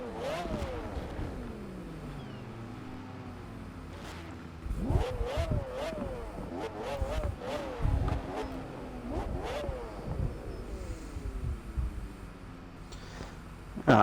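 Jaguar XJ220 supercar engine in Forza Horizon 4, revving up and down repeatedly with sweeping pitch rises and gear-shift drops, loud and close, with gaps between bursts and no talking.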